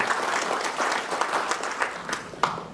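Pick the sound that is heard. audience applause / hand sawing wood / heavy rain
audience applause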